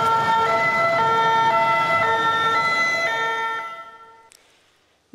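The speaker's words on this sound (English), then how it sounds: "But what about sounds that need to be heard? Like an ambulance." An ambulance siren wails loudly with a harmonic rising and falling tone, holding strong for about three seconds before fading away into near silence as the vehicle passes, no talk over it.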